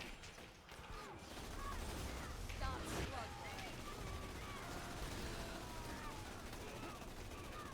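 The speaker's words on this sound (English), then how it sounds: "I'll shoot at the floor because there's a couple." Rapid gunfire in Borderlands 2, a dense sustained burst of shots with ricochets and mechanical clatter, loud and continuous throughout.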